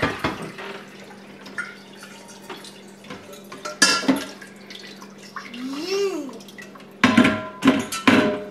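Wet feta cheese curds are scooped into a bucket in a home kitchen, giving intermittent sloshes, drips and plastic knocks close by, with a few brief voice sounds between scoops.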